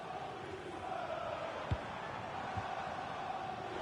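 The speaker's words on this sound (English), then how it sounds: "The crowd encouraging him to take it on." A stadium crowd in the EA Sports FC25 football game keeps up a steady, distant roar of encouragement, with a couple of brief thuds cutting through the wash of noise.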